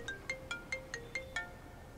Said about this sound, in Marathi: अरे केव्हाचा फोन वाजतोय तुझा?